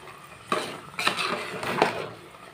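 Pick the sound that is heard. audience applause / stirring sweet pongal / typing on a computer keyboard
stirring sweet pongal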